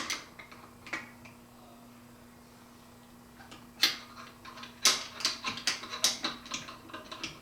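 A ratchet tool clicks in short bursts as a machine body screw is tightened into place, faint at first, then sharper, closer clicks crowding together toward the end.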